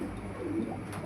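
A pair of red Lahori pigeons gives a soft, low coo, faint and brief against a quiet background.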